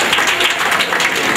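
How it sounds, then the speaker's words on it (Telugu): Audience clapping at a child's fifth birthday celebration in Nellore, a dense, steady wash of applause from many hands, fairly loud and continuous throughout. "సోను ఆయనకు కొట్టండి చప్పట్లు."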